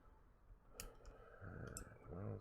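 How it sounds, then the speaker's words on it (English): Keyboard spacebar being clicked during Minecraft play, a few sharp close taps over a soft room background, no speech. "you're going to hear me clicking spacebar a lot"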